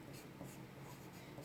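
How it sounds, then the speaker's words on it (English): A graphite pencil writing labels on paper, a steady dry scratching with small rhythmic strokes, close up and continuous. "After you draw your sections with your graphite pencil, I want you to label them."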